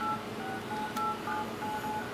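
Short DTMF keypad beeps sound one after another as a number is dialed on an AllWinner A13 Android 4.0 2G tablet phone with a 7-inch screen, faint and evenly spaced.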